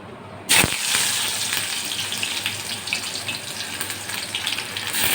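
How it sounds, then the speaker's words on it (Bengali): Onion tossed into hot oil in a wok sets off a sudden loud hiss after a brief quiet moment, then settles into a steady, rushing sizzle that carries on with no speech. "তেলটা গরম হয়ে গেছে, আমি এতে পেঁয়াজটা দিয়ে দিচ্ছি।"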